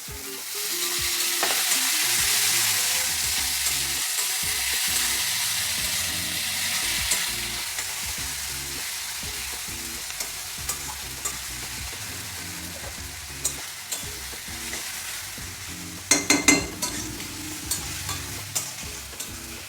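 Chopped tomato and capsicum fry with ginger and garlic in a pan for a street-style chicken bhuna, giving a steady, loud sizzle with stirring and a few sharp utensil knocks near the end.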